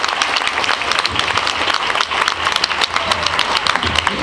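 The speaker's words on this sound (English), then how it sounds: "So please give yourselves a round of applause" Close, vigorous audience applause at a welcoming ceremony, a crackling wash of many hands clapping at once, steady and unbroken throughout with no voices standing out.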